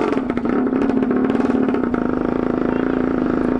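A Yamaha Tenere motorcycle engine revving gently under light throttle, a close, steady, rapid mechanical throb that stays loud throughout the short stretch.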